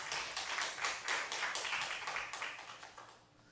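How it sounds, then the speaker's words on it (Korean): Congregation clapping during a Sunday worship service in church, a run of fairly soft, rhythmic group claps that swell and then taper off toward the end. "하나님께 영광의 박수 돌리겠습니다"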